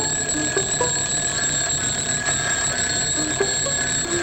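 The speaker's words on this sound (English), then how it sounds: "by the nerve-shattering sound of his silly old alarm clock ringing at the top of its bone" An old alarm clock ringing in a cartoon, a loud continuous shrill ring held steadily without a break, with no talking over it.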